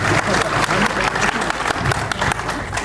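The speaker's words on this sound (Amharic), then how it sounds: "ለራሳችሁ በእጅጉ አጨብጭቡ።" Loud, dense audience applause fills a theatre at a book launch ceremony for Gofta Rahmeto at Hager Fikir Theatre, steady clapping from a large crowd continuing throughout with no one speaking.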